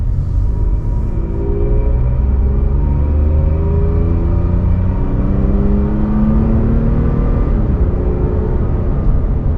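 A new Toyota Tacoma pickup truck engine rises steadily in pitch as it accelerates, a continuous close drone with road rumble underneath, no voices.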